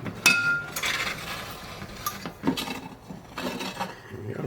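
A metal spatula spreads a little oil around a hot pan before sausages go in, giving light scraping and scattered clinks against the pan, close and moderately loud, with no speech.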